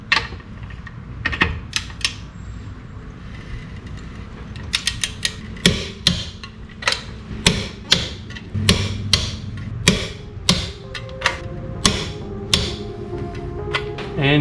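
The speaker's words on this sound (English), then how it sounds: "And then torque these to 95 foot-pounds in a crosshatch pattern." Wheel nuts being torqued down on a second-generation Dodge Ram 1500 during a wheel hub bearing job, with a series of sharp, loud metallic clicks and knocks in an irregular rhythm, close by and with no talking.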